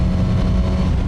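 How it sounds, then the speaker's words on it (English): Suzuki GSX-S1000 naked motorcycle with a throaty exhaust and airbox sound, a loud, close, steady low rumble with no voices. "I've got a really throaty kind of exhaust combination with the airbox. It sounds really nice."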